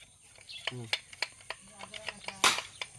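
A firecracker-style toy popper snaps off with one sharp, bright crack, heard close among faint scattered clicks and brief, soft child-like vocal sounds.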